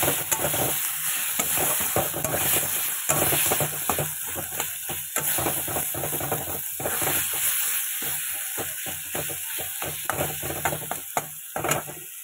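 Chopped tomato fries in a pan with salt and turmeric, an even sizzle broken by frequent scraping, rattling strokes of a spatula stirring the mix, close and without speech.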